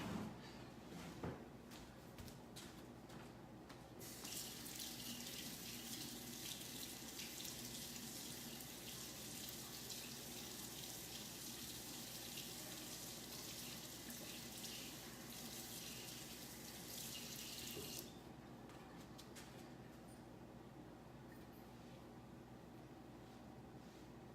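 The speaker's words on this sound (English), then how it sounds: "So let me rinse this real quick." A kitchen tap runs while something is rinsed under it, a soft steady hiss of flowing water lasting about fourteen seconds, faint and somewhat distant, with quiet background clatter and no talk.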